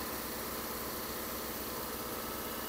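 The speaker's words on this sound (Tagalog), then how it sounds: "pinapainit ni Sir Lascano yung ating makina para uminit din yung ating transmission fluid" A 2021 Toyota Rush idles while warming up before an automatic transmission fluid change, a steady, close, continuous engine rumble with no talking.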